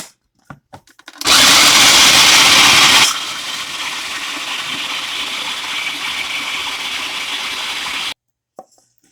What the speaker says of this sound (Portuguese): vou triturar esses biscoitos